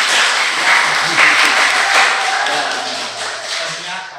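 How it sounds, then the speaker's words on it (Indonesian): Participants at a Catholic diocesan communications podcast workshop in Atambua clap together in a steady, fairly close round of applause, with faint talk under it. "mohon maaf tepuk tangannya teman-teman"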